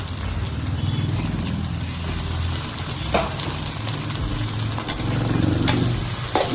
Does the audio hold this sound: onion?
yes